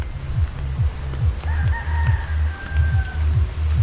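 Chickens in a rural Philippine yard and a rooster crowing one long, clear crow in the middle of a continuous low clucking chatter, close by with steady ambient noise.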